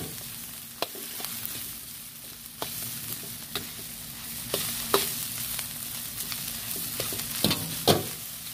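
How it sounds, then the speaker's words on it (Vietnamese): Yangzhou fried rice is stir-fried in a pan with a continuous loud sizzle, broken by sharp scraping and clacking stirring strokes at irregular intervals, with no talking. "các bạn thấy cái chảo cơm chiên chưa"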